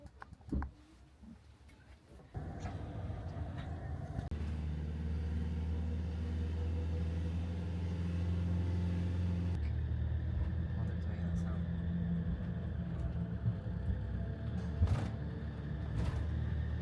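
Idling cars crowd a ferry boarding platform in France, a steady low engine rumble surrounding the listener for the whole stretch, with people talking over it.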